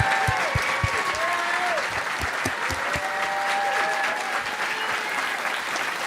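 Audience at a chef's talk about a seafood cookbook breaks into loud, continuous applause, a dense crowd of clapping hands with some sharper claps, while a voice speaks briefly over it.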